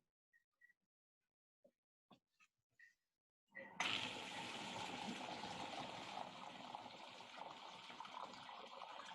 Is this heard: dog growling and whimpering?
no